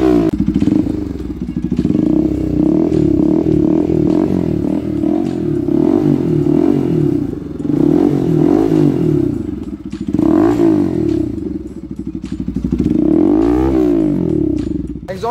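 Bajaj Pulsar RS 200 motorcycle fitted with a loud aftermarket exhaust, idling with a deep rumble and blipped repeatedly into rising and falling revs, close and loud throughout the stretch.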